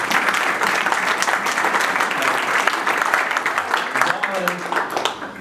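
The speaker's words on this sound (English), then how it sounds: "Let's give a round of applause to Dawn." An audience claps steadily in sustained applause at a community event celebrating a mural project, a dense, fairly loud wash of hands that holds throughout with a few voices mixed in.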